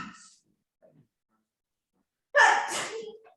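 A single loud sneeze bursts out near the end after brief quiet, during a tabletop role-playing game session, following faint murmurs at the start.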